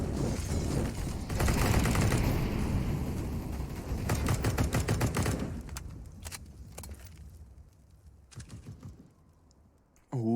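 Counter-Strike match gunfire, with rapid bursts of shots and clicking weapon sounds that are dense at first and then thin out into scattered single shots.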